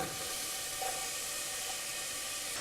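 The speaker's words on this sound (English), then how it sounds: "I'm going to saute that onion until it's translucent, about 5 minutes" Chopped onion sautéing in olive oil in a pot, a soft steady sizzle and hiss running continuously, close but quiet, without talking.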